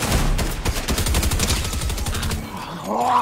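Rapid automatic gunfire rattles in the Apex Legends video game, dense bursts of shots close and loud for several seconds before easing off, with a player's voice briefly audible at the end.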